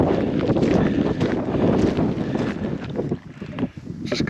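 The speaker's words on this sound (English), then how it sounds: "It's wet, it's windy." Wind buffets across an exposed mountain in wet weather, a constant loud roaring rush with gusty surges and fluctuations throughout.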